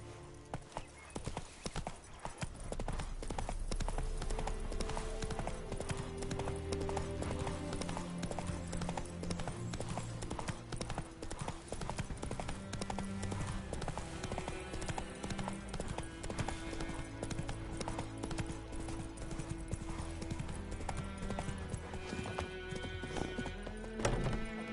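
Roach the horse trots through The Witcher 3, steady hoof clip-clops running continuously under a dense game music score, with an occasional whinny.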